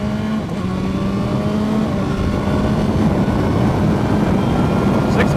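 A 2015 BMW S1000R motorcycle accelerating hard through the gears with its quick shifter, a loud steady engine drone rising in pitch and then dropping briefly at each quick upshift, with no talking.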